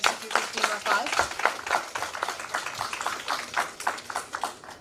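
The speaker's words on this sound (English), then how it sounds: "once again a big round of applause for our new executive team of AALP" Scattered applause from an audience at a closing ceremony honoring a new executive team, uneven rhythmic claps with some overlapping voices, moderately near.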